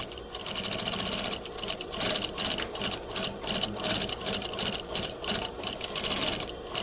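A sewing machine stitches a garment seam a presser foot's width from the raw edge, running steadily with a rapid mechanical chatter of needle and gears throughout, close and continuous with no talk.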